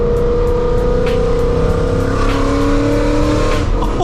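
A Ford Mustang engine roaring loudly while driving, holding a steady, throaty drone that climbs in pitch as it revs, heard from inside the car.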